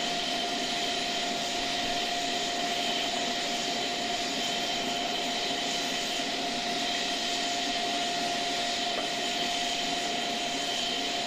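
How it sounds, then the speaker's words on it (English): Turkish Stars aerobatic team jet aircraft flying, a steady, loud, unbroken roar with a high whine running through it from start to finish. "looking at those aircraft at the moment, there we go. It's the Turkish Stars."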